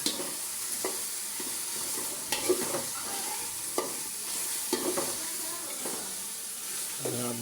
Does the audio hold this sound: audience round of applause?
no